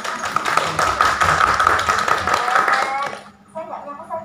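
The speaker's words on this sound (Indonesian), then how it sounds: "keren, tepuk tangan buat kita dong." An audience at a live televised school music show in Kendal claps loudly and steadily for about three seconds, with voices and music mixed in, before the applause stops abruptly and quieter sounds follow.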